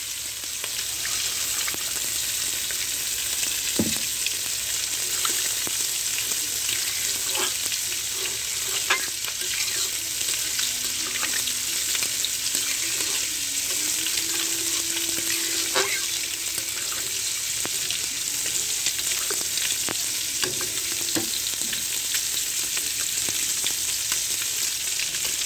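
Water is poured into potatoes frying in a pan for a grass carp curry, giving a loud, steady sizzling hiss with occasional stirring scrapes, close by and with no speech.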